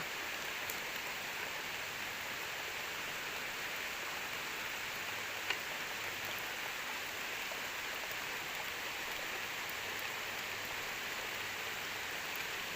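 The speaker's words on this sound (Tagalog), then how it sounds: "grabe, lakas ng ulan eh" Steady, dense rainfall pours down continuously, a broad hiss with pattering drops and no voices.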